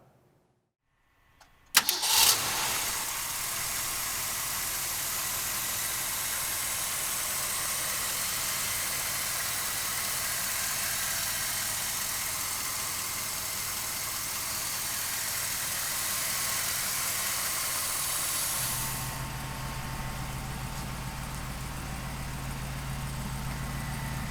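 A 1967 Mercury Cougar with a 390 V8 cranks and fires up with a loud burst, then settles into a steady, rumbling idle that holds close and loud, shifting to a deeper tone near the end.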